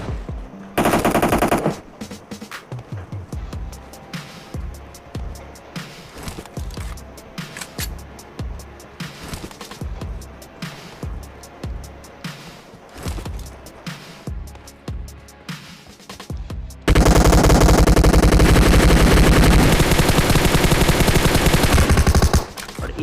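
Rapid automatic M4 rifle fire in the battle royale game PUBG, loud bursts rattling through most of the stretch, ending in a long, dense, sustained volley near the close.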